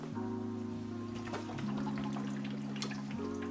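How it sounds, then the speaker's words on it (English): Water trickles and gurgles steadily into an Eheim Classic canister aquarium filter while it is being primed through its hose, a continuous close pouring wash running over a low steady motor-like hum, with no talk. "to get water flowing into the filter."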